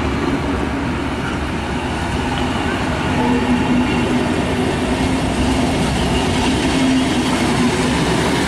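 A summer tourist train pulls out of Verdal station with a steady, loud rail rumble and wheel noise that holds throughout and swells slightly partway through, with no voices.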